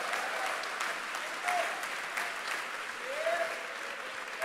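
A church congregation at a Spanish-language service applauds continuously, the clapping filling the room at moderate volume with a few whoops and whistles rising above it.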